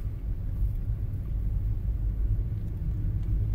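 Car rolling backwards uphill in neutral on Magnetic Hill, a steady low road rumble and cabin hum with no engine revving, continuous and close.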